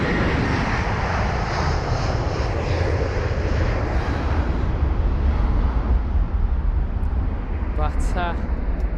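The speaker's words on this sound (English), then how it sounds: "got the Delta departing" A Delta jet departs London Heathrow with a loud, sustained roar of aircraft engines that holds steady throughout, slightly easing toward the end.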